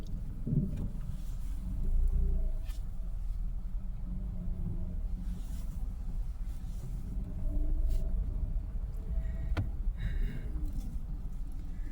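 A 2019 Mitsubishi Mirage G4 with a suspected front wheel bearing problem driving on a test drive, steady low engine and road rumble filling the cabin, with no talking.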